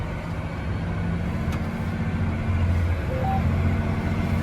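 A John Deere 9RX 830 tractor seeding double-crop soybeans drives across a field, heard from inside as a steady low engine drone with a continuous rumble and no voices.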